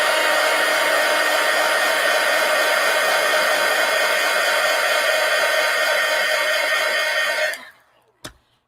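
A hair dryer blows steadily and loudly at close range over a mixed-media collage card in an altered book, a constant airy roar that cuts off abruptly near the end, followed by a small knock.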